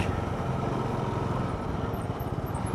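A motorcycle engine runs steadily at mid pitch on a morning ride along a farm track, a continuous close drone with faint irregular knocks that could be gears engaging by themselves; no voices.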